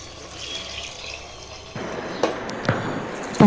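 Water pours into a pot of chicken biryani, a soft steady trickle that turns to a fuller splashing flow partway through, with a few light knocks near the end.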